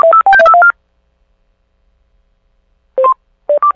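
Telephone keypad dialing during a prank call: a rapid run of about seven clear touch-tone beeps, then a pause and a few more tones, loud and close with no talk.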